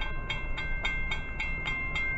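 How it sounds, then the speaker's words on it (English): A CSX freight train rolls past, its wheels clicking over rail joints in an even rhythm under a steady rumble, heard close and alone. "here comes another train."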